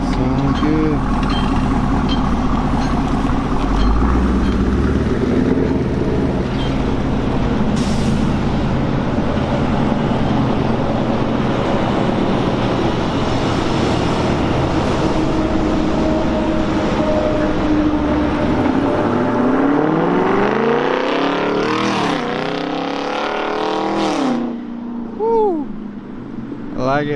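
A 2017 Chevrolet Camaro with a new Borla Atak exhaust rumbles loudly throughout, with rising revs near the end and people talking over it.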